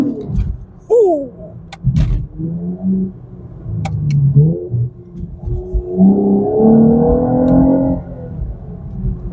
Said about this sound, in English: I was not expecting to drive the V6. It sounds good and it's surprisingly fun to drive.